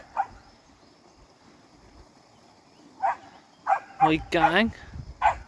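Several small dogs barking and yipping in short bursts outdoors on a homestead, close by, with a voice speaking over them.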